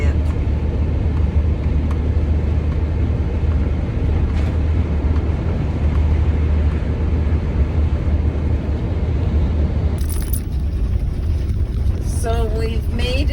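A car drives along a country road near Elliot Lake, Ontario, heard from inside as a steady low road rumble with wind noise, continuous and loud, with a brief clatter toward the end.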